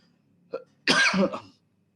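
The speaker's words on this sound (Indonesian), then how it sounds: "Mohon maaf batuk." A single harsh cough, close and loud, preceded by a short faint throat sound, then quiet.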